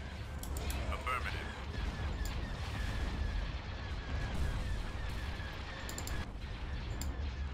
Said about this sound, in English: Open fire on those laser cannons.